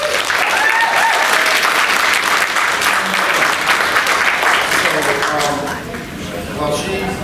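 Audience applause for a musician at a recovery conference, a dense, steady wash of many hands clapping that thins slightly toward the end, with faint voices underneath.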